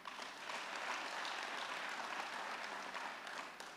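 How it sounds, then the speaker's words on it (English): An outdoor festival crowd in Soweto claps for the Premier, a broad, steady wash of applause heard from a distance and fairly faint, rising slightly and then tailing off. "We can do better by clapping hands once more."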